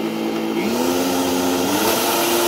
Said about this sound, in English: I'll turn it on so you can see how it runs.